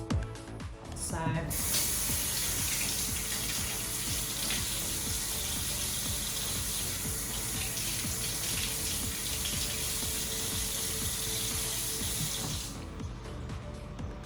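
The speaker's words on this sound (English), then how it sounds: "rinse all the goop off" Running tap water rinses citric-acid goop off Vortech aquarium pump parts, a steady close hiss and splash that starts abruptly after a brief clatter and cuts off near the end.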